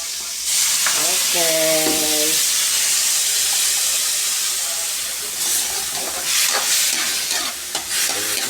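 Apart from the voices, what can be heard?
water added to frying bitter gourd in pan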